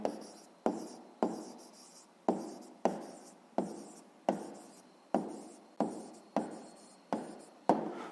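A pen writes an answer by hand on paper in a math exercise, giving a regular series of about thirteen close scratching strokes, each a sharp start that fades, with no talk.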